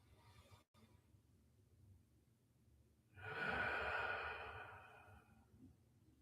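A single long, deep exhale during a standing qigong flow, rising suddenly out of quiet room tone, broad and breathy for about two seconds before slowly fading.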